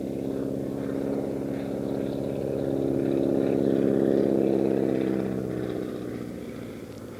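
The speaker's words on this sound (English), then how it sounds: "He's side slipping this airplane because he was high there just to get it in on the runway." An aerobatic airplane side slipping to lose height for landing on a runway gives a steady, loud propeller-engine drone that swells slightly mid-way and then eases, with no voices.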